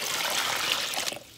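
Liquid pours steadily into a bath as part of a home spa soak, a continuous splashing stream that tapers off near the end.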